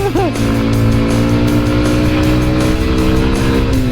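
A Junak RX 1 motorcycle engine revs hard and strains at high revs climbing uphill in first gear, its pitch holding steady and loud throughout.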